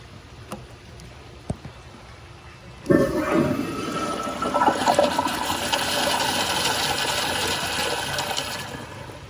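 A 1.6 Kohler Kingston toilet on a wall-mount setup flushes. A couple of faint clicks come first, then a sudden loud rush of water that settles into a steady hiss and swirl until the clip ends.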